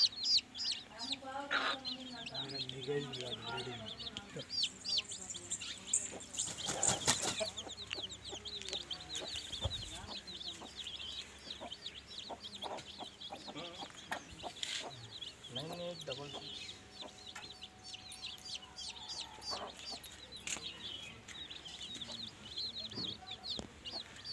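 Kathai roosters, including a year-and-a-half-old bird kept for breeding, cluck and call repeatedly at close range, a continuous busy flock sound with someone speaking intermittently over it.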